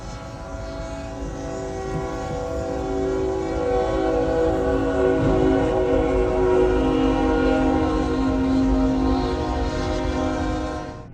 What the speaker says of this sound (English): the train passed, crushing everything